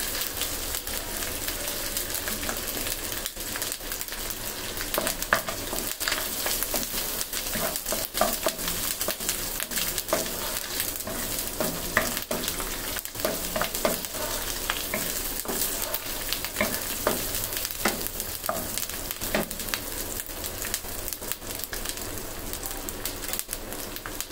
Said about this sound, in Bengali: এই জন্য আদা রসুনটা দিয়ে ভালো মতন একটু 2-3 মিনিট ভেজে নিচ্ছি।